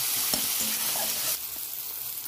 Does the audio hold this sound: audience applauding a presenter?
no